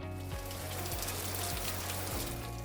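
Rain sound effect from a video editor's built-in effects library: steady, dense hiss of rainfall on a surface, continuous and fairly loud throughout with no voices.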